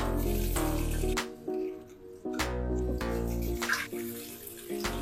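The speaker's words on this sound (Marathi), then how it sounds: "आता आपण गोबी धुवून घेऊ" Running water from a tap splashes steadily as cauliflower is rinsed beneath it, with brief pauses and clatters when the flow is interrupted.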